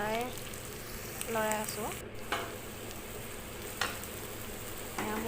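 Chicken pieces for chicken Manchurian sizzle steadily in a pan while being stirred, with scraping spoon strokes recurring over the constant frying hiss; a brief spoken word is heard.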